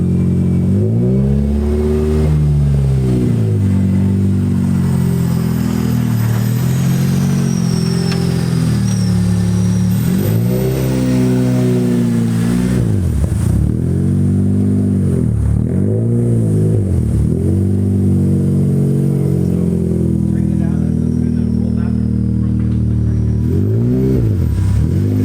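A K24-swapped Honda Civic EK hatchback screams through repeated high-rpm pulls on a dyno, its stock four-cylinder revving up and dropping back several times in loud, close, sustained bursts with no talk.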